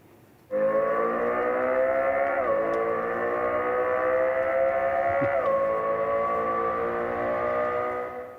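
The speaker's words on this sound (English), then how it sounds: "the Lexus LFA V10 sound simulation available on demand, the perfect match for effortless lane changes" Simulated Lexus LFA V10 engine note played through the Lexus TZ electric SUV, a steady, loud, sustained howl with a rich stack of harmonics that sags briefly twice as if shifting gears, then holds on.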